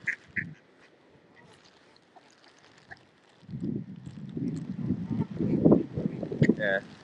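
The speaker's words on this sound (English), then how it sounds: "Yeah, all the ducks are following me." Ducks quacking in a park in Stoke-on-Trent, a few scattered nasal quacks close by, with people talking through the second half of the clip.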